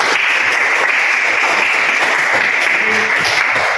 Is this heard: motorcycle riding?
no